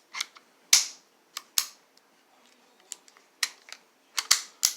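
Dry-fire function check of an empty Charter Arms revolver: a series of sharp, crisp metallic clicks, near and isolated, with irregular gaps between single snaps and quick pairs over a quiet background.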